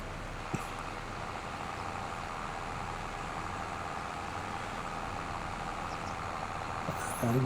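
A John Deere tractor engine in a farming video game hums at a low, steady idle, fairly quiet and continuous, with a brief click near the start.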